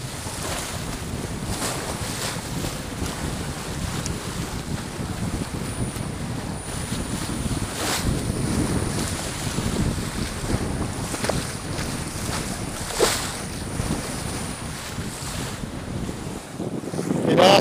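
A small sailboat crossing solo toward Corsica through a choppy, whitecapped sea, with loud wind buffeting the microphone and water sloshing and slapping against the hull in a continuous roar.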